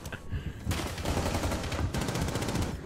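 Rapid gunfire in Rainbow Six Siege, loud close bursts of automatic shots crackling in a fast continuous rhythm with a brief pause partway through.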